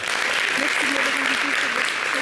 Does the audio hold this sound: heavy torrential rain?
no